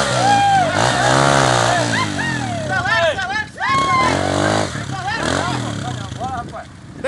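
A motorcycle engine revs and surges as a learner rider lets out the clutch and accelerates, with loud shouting voices and crowd chatter running over it throughout.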